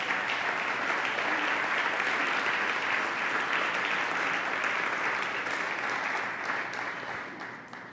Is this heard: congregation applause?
yes